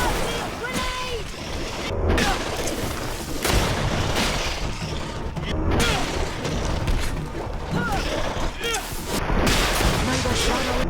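Battle in the game Greedfall: a grenade blast and repeated booming gunfire hit in rapid bursts throughout, loud and close, with shouted voices and clattering combat noises mixed in.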